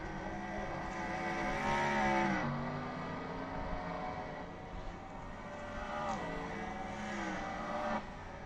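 Dirt race cars lapping the Bristol dirt track, engines droning and swelling as they pass, loud and continuous with rising and falling pitch sweeps.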